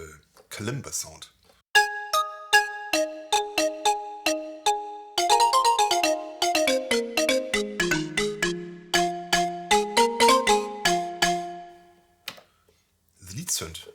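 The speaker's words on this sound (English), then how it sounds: "And the kalimba sound." A kalimba patch on a Korg Wavestate synthesizer plucks bright, bell-like notes, first as a sparse melody and then in a quick run of cascading tones, with short bits of talk just before and after.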